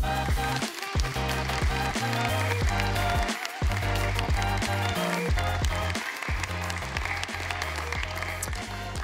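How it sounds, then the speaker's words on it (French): An audience at a business club event applauds the arriving mayor of Rennes, a crowd's clapping rising and holding over a tonal musical backdrop, with brief dips between bursts. "Nathalie Appéré, que je vous demande d'applaudir."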